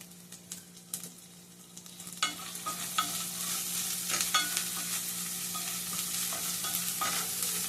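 Ginger garlic paste with turmeric frying for a chicken curry with tamarind leaves, a steady soft sizzle under repeated spoon scrapes and stirring knocks against the pan, growing busier after the first couple of seconds.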